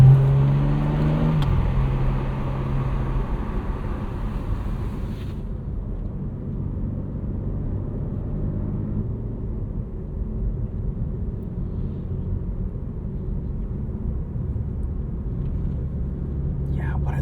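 A 2025 BMW M4 CS cruises on the road with a low, steady engine rumble and road noise from inside the cabin, loud and continuous. A voice is heard briefly at the start.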